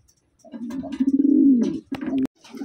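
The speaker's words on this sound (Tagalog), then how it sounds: "Meron pa tayong tatlong Taiwan mga kalapatids." Taiwan pigeons coo in a low, rolling burst close by, one long throaty coo swelling then breaking off, followed by a shorter second coo and the start of another.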